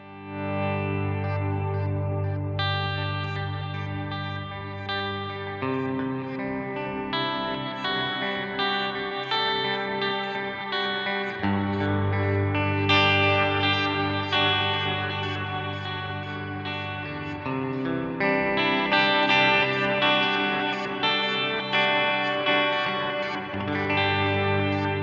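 An electric guitar through a Line 6 HX Stomp reverb effect rings out in sustained chords, with long reverberant tails blending notes together; loud and continuous, no voice.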